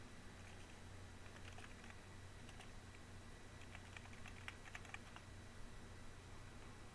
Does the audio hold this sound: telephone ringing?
no